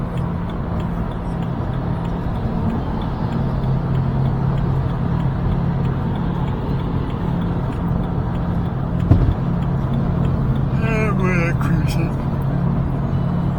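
Steady low road and engine drone from inside a car cruising at 68 mph on a British motorway, a continuous hum with a brief voice near the end.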